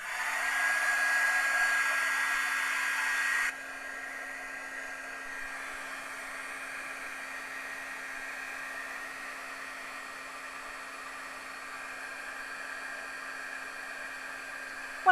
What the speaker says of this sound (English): let's just listen to the dulcet tones of the heat tool while it warms up